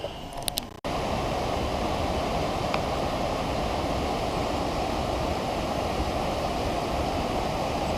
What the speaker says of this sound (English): That's still Indian Creek right there to the right of us.